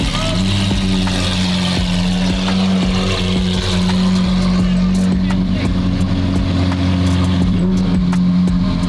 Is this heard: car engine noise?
yes